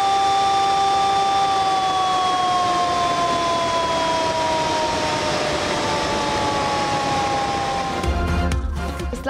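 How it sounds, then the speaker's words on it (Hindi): Warning sirens wail over Islamabad ahead of the opening of the Rawal Dam spillways during heavy rains, a loud sustained tone slowly sliding downward for several seconds, followed near the end by a burst of rougher broadband noise. "स्पिलवेज खोलने से पहले सायरन बजाए गए।"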